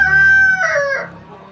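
A rooster crows loudly and close on a village farm, a long tonal call that breaks upward midway before fading, with a faint cluck trailing at the end.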